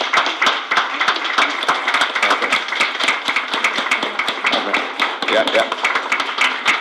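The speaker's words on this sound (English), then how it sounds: "So please join me in giving them a round of applause" An audience at a Board of Education meeting claps in dense, sustained applause of many hands at a steady loud level, with a brief spoken word mixed in.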